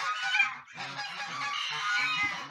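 Geese and goslings of a second hatch honk and call together in a continuous, busy chorus, close and fairly loud, with overlapping squawks and peeps throughout.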